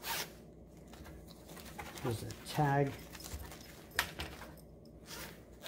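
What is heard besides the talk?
zipper on seat cushion cover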